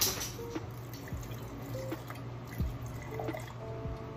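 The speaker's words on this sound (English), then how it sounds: "she made infused water, so I'm gonna pour some of this in here, just a little bit" Infused water is poured from a container into a glass, giving a soft, steady trickle with faint drips, heard close and alone.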